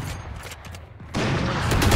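Gunfire from a sniper rifle in the shooter game Valorant comes as a dense, loud burst of shots, harsh and close, followed by a sustained roar of blasts with no speech.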